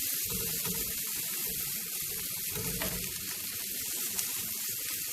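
Clams added to a hot pan for a clam pasta, producing a constant close-up sizzle and hiss, with no voices.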